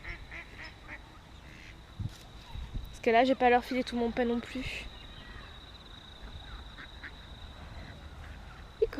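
Ducks quacking in a burst of rapid, overlapping calls near the middle, under outdoor ambience, with a person talking before and around the calls.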